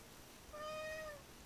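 A pet cat gives a single soft meow, faint and a little distant, with a low background hum and no talking.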